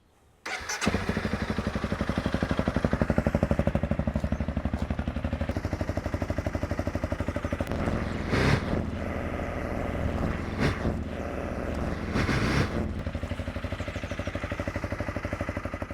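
A Honda CRF300 Rally with an Arrow Thunder Titanium exhaust starts up and holds a steady, loud idle-to-rev drone near the bike, with a few brief surges in throttle as it is brought up toward 4,500 RPM.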